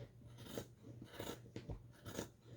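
Scissors snip through fabric while cutting out a bonnet, several crisp rhythmic cuts in a row, close and quiet with no talking.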